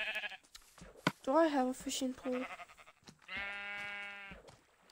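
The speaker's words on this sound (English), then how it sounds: "There's sheep just having a good time." Sheep in the video game Minecraft bleat in two wavering, drawn-out calls, the first under a player's voice talking and the second clear and loud, set against quiet game ambience.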